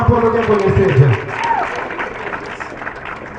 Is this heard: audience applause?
yes